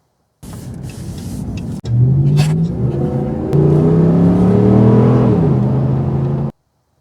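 A Dodge Ram Hemi 5.7L V8 starts up abruptly and revs loudly in rising and falling sweeps, with a brief break in the pull partway through as the engine stumbles, then cuts off.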